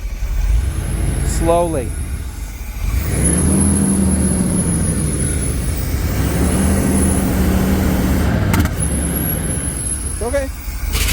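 An idling 1989 GMC Sierra K2500 pickup, abandoned for a decade, rumbles steadily as it is shifted into four-wheel-drive and dropped into gear, with a high whine and brief clunks, while people talk nearby.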